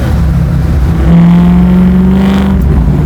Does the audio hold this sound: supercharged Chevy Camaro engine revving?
yes